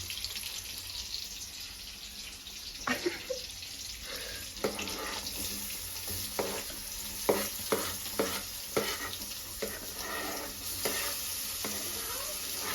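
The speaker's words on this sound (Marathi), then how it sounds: "कांदा टमाटर टाकले आपण त्याच्यात. बनव, हलवते." Onion and tomato fry in a pan with a soft, steady sizzle while a spoon stirs them, giving a run of irregular scraping clicks and knocks, close but fairly quiet, with no voices.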